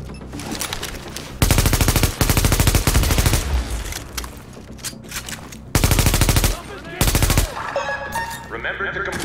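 Sustained automatic gunfire from The Division, in long loud bursts separated by short gaps, with shouted in-game voices and scattered effects between volleys.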